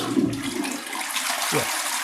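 A toilet flushing in an apartment, a loud rushing gush of water that swirls and drains, ending with a short gurgle near the close.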